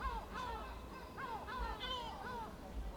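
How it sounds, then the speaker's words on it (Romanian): A flock of seagulls at the seaside gives harsh, crow-like calls, repeated and overlapping in a steady chorus. The calls are fairly distant over a low rumble of wind and background noise. "E un stol de pescăruși"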